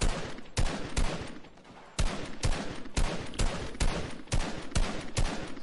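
Gunfire in the Fortnite video game: rapid, loud bursts of shots repeating at a quick, fairly regular pace, with no talk over them.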